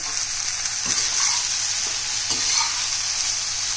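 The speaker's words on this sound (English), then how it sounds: "Now stir fry" Okra for crispy bhindi kurkure stir-fries over high heat, a loud, steady hiss of oil with a few soft stirring knocks underneath and no voices.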